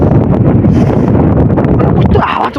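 Cold wind blowing beside a river, a loud rumbling gusty roar buffeting the microphone nonstop, with a brief rustle near the end.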